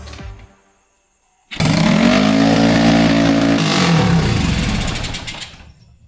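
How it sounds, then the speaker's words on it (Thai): A motorcycle in neutral with a stuck throttle starts abruptly after a short silence and roars at high, sustained revs, close and loud, then slowly winds down toward the end. "เดี๋ยวมาลองสตาร์ทนะเราก็อยู่เกียร์ว่างนะครับ"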